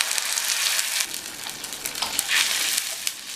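Onions sauté in a hot pan, crackling and hissing steadily, with scraping bursts as they are stirred, close and fairly quiet with no voices.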